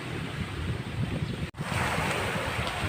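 Big ocean waves and strong wind at the shore, a loud continuous roar of surf with heavy wind buffeting the microphone and a brief dropout midway, no voices.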